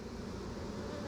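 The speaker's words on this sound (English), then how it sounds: "these bees are kind of getting spicy." Honey bees buzz in a dense, continuous hum, many insects droning together close by with no other sounds.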